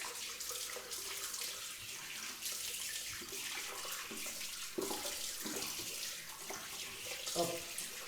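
Water running from a tap into a sink to rinse a beard trimmer, a steady faint hiss and splash under the whole stretch, with brief shifts as the stream hits the trimmer.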